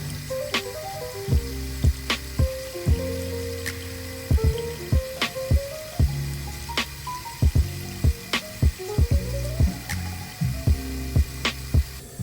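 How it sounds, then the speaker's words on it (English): Warm tap water runs steadily over an embroidered bucket hat design being rinsed of stabilizer, a continuous splashing stream with sharp drips and clicks scattered throughout, close and moderately quiet. "then run the design under warm water for 2 to 3 minutes"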